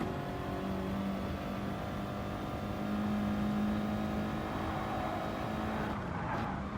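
A McLaren race car engine in a racing video game drones steadily at high revs, its tone climbing and dropping as it shifts up through third, fourth and fifth gears, a constant loud whine with no voices.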